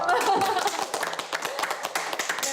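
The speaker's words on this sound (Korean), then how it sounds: "박수 한번 주세요" Brief burst of clapping from a group at a company event, dense and steady, fading slightly toward the end, with some voices mixed in.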